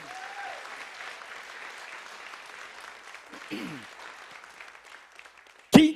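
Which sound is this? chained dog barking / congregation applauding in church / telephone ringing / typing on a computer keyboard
congregation applauding in church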